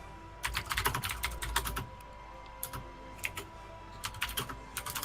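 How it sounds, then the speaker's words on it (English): A loud computer keyboard clatters with quick bursts of keystrokes, dense runs of clicks broken by short pauses, close and heard alone at a moderate level. "you're going to hear me typing"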